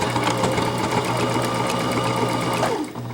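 A sewing machine stitches a fabric mask with a steady, rapid mechanical whir and clatter, close and continuous, slowing and stopping just before the end.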